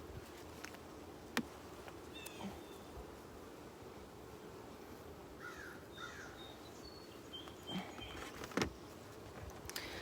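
Honeybees buzzing inside an open hive, a low continuous drone close by, with a few louder buzzes as single bees pass and occasional faint knocks.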